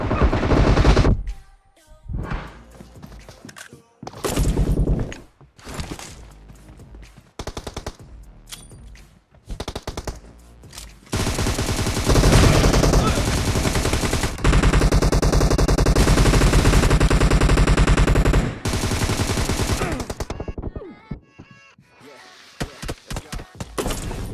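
Gunfire in the mobile game PUBG played on a phone: loud bursts of automatic weapon fire, some long and sustained, others short and clipped, separated by brief quiet gaps.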